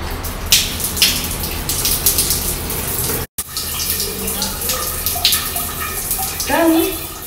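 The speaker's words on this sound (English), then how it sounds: "I'm about to take a shower." Home shower running with a steady, full rush of water close by, broken by a brief dropout midway, with some splashing and shifting flow toward the end.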